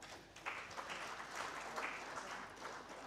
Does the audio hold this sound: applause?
yes